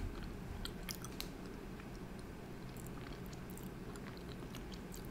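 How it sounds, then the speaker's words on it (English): Sour dough taffy candy, strawberry flavour, being chewed close to the mic: a steady, sticky mastication with scattered small clicks and smacks that runs the whole time with no talking. "It takes a while to chew."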